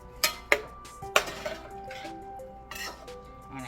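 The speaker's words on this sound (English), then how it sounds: "So I'm going to continue to stir this until it starts to thicken up." Homemade sausage gravy being stirred in a pan, with a few sharp metallic clinks of a utensil against the pan followed by softer scraping and bubbling, fairly close and quiet.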